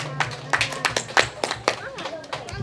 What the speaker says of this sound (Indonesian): Tepuk tangan dulu untuk Pak Elias.